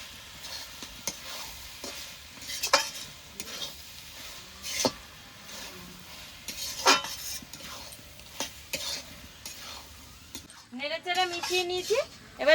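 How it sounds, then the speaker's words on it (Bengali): A spoon stirring cashew and spice paste with cabbage and soybean in a pan, giving scraping and tapping strokes over a low sizzle, with a voice talking near the end. "এবার ভালো করে নেড়ে চেড়ে মিশিয়ে নেবো"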